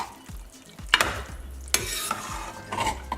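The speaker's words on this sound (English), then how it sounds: "Mix that together." Basil chicken pasta with homemade tomato sauce stirred in a pot, producing soft wet squelches, a few sharp metallic clinks of the utensil against the pot, and a faint sizzle underneath.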